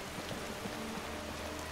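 Steady rain hisses in the fantasy game Skyrim, a dense, even wash of falling drops with no break and no voices over it.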